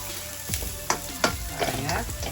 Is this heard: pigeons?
no